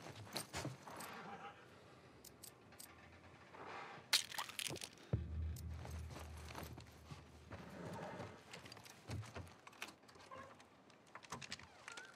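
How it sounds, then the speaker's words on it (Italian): Horse hooves clip-clopping in The Last of Us Part I, a steady run of hoofbeats over game ambience with occasional sharper knocks and a brief low rumble midway. "Torniamo ai cavalli."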